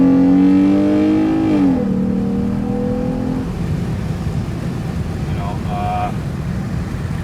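A Jeep Grand Cherokee fitted with a K&N 77 intake revs up close and loud, the engine note rising and then dropping away into a lower settled hum, with a brief fainter rev later and speech faintly present.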